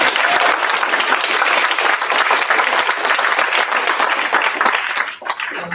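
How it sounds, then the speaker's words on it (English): A large audience applauds at a nursing pinning ceremony for graduates, loud continuous clapping from many people that carries on evenly before breaking off abruptly near the end. "that is worthy of a more joyous round of applause."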